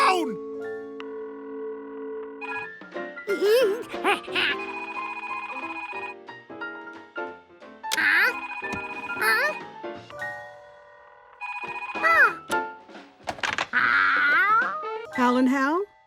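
A cartoon telephone in Curious George rings in steady electronic tones, broken into bursts, while cartoon voices and sound effects overlap it.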